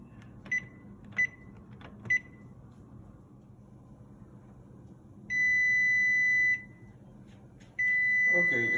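Digital kitchen timer set for a baking dish of mac and cheese, giving three short, evenly spaced beeps, then two longer sustained tones, the last trailing off at the end, against quiet kitchen background.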